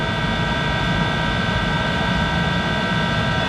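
A 1951 Monarch 10EE lathe turns at about 200 RPM, giving a steady, even mechanical hum with a faint tonal whine that holds constant, close and moderately loud, with no talking.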